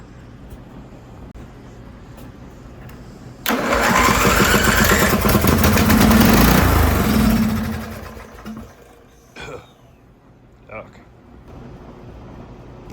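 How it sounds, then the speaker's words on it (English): Engine of a home-built 6x4 side-by-side firing on carb cleaner sprayed into the intake: a sudden loud roaring burst lasting several seconds, then dying away into a few faint knocks and clicks. "that fired like that because I put some carb cleaner and stuff in the intake and then started it"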